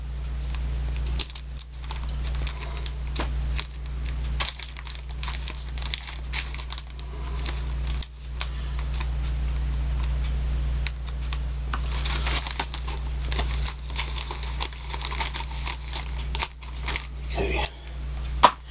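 The plastic wrapping on a vinyl record is cut open and peeled away, giving continuous close crinkling and snipping over a steady low hum, with bursts of louder crackle near the end.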